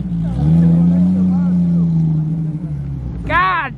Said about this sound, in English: Bro, rev it!